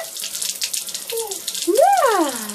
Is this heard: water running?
yes